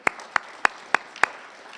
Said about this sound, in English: So let's give a big round of applause for their support